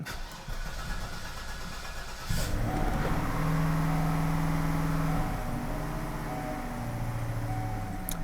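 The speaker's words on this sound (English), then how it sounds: "Let's go ahead and start the car up." A car engine cranks and catches in a garage, then settles into a steady idle that runs slightly rich, with a few light throttle blips rising over the rumble, close and fairly quiet.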